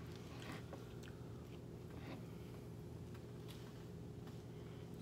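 Someone bites and chews fresh homemade Korean radish kimchi up close, giving faint, crisp crunching that repeats over a low steady background hum.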